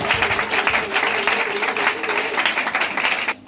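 A church service congregation bursts into applause, with fairly even clapping that carries on for several seconds before cutting off abruptly near the end.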